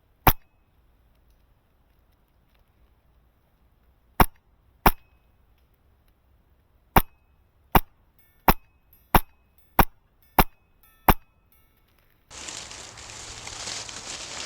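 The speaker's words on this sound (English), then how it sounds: "And we'll just take a first shot." Wolverine MTW airsoft gun firing about ten sharp, loud single shots at irregular intervals over near silence, followed by a burst of broadband noise at the end.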